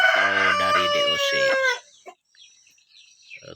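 An Indonesian village rooster (ayam kampung) lets out one loud, close crow that lasts under two seconds, then a few faint clucks and rustles follow in near quiet.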